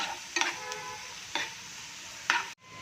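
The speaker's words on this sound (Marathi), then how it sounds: "कांदा घालून घेते हिरव्या मिरच्या कांदा थोडासा लालसर करून घेते" Onion and green chillies frying in a pan for egg bhurji: a soft continuous sizzle with three distinct stirring scrapes spaced about a second apart, close by, ending in an abrupt cut to silence.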